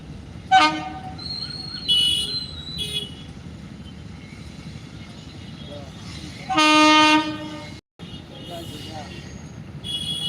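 A Vande Bharat express train rumbles past close by near Usilampatti, its horn sounding in several toots over the steady rolling noise.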